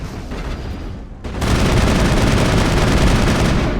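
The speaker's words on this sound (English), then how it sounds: "Ashley is completely ignoring line of sight and just shooting at the wall." Rapid gunfire from the Mass Effect video game: a dense, continuous barrage of shots. It dips briefly, then returns louder and sustained, with no talking.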